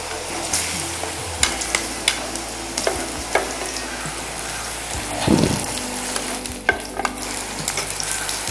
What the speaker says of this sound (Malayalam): ഈ എണ്ണയിലിട്ട് തന്നെ ഈ പഴം ഒന്ന് ഫ്രൈ ചെയ്തെടുക്കാം